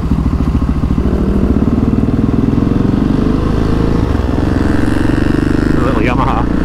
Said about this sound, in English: Relatively new motorcycle. That's a 125. The noisy exhaust.